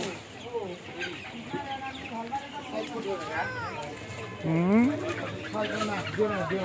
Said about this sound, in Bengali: এই যে হাঁস আছে